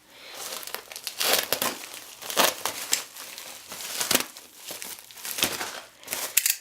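Packaging crinkles and crackles in sharp, irregular bursts as a Notifier BNG-1-TS fire alarm unit is unboxed, the rustling close and loud with short pauses between handfuls.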